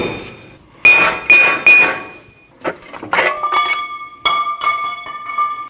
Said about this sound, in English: remove your wheel bearing from your knuckle by hitting it with a hammer outwards